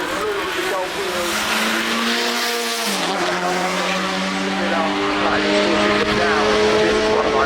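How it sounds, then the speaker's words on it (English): A Lancia Delta Integrale rally car drives past at Goodwood Festival of Speed, its engine note climbing then dropping with a gear change before rising again, loud and close, with a voice over it. "This is one of my favourites. The Lancia Delta Integrale."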